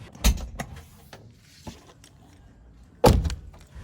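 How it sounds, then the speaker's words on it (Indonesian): A 2001 Honda CR-V RD1 2.0 tailgate glass released by its button: a sharp click-thunk, a few smaller clicks and mechanical knocks, then a second louder thunk as the glass unlatches, close by with no speech. "Kita buka kaca bagasinya lewat tombol ini."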